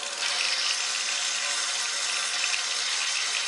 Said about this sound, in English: Keep the water going, make sure it's cooled off.